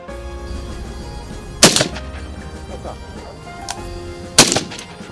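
Two sharp gunshots a few seconds apart ring out at a shooting range where ballistic materials for the NAC-V armoured vehicle are being tested, each a loud crack with a short echoing tail over steady background hum.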